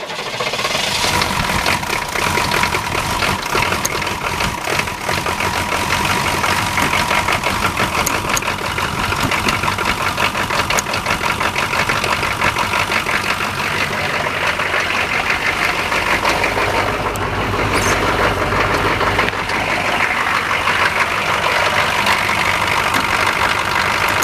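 Frozen K5 engine cranked over and settling into a steady, loud idle that runs continuously with a dense mechanical rumble and slight knock throughout.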